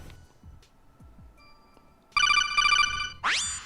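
A phone ringtone bursts in loudly after quiet background noise, a bright repeating electronic trill that ends with a rising sweep.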